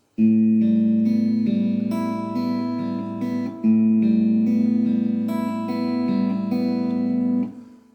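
A guitar plays a short fingerpicked exercise pattern, notes ringing over a sustained bass, with a slight processed, chorus-like sheen and a brief pause midway before fading.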